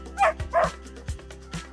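A puppy yips and whimpers in a few short, close cries over a steady low hum, part of a French audio story about welcoming a new dog.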